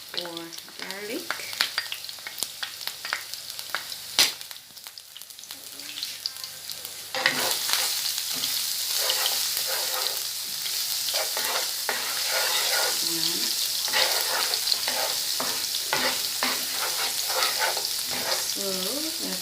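Garlic frying in olive oil for Jamaican mackerel run down, a steady close sizzle that jumps louder when the garlic goes in, with occasional stirring and brief speech early on.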